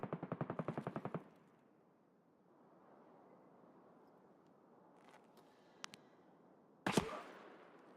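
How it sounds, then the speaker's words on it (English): Gunfire in Escape from Tarkov: a rapid burst of about ten shots at the start, then low rumbling quiet with a couple of faint clicks, and one loud, sharp shot near the end followed by a decaying echo. "Somebody's shooting at me and I have no idea who or where."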